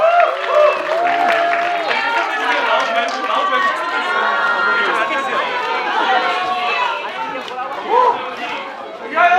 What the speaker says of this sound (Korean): 여러분 뜨거운 박수 주시면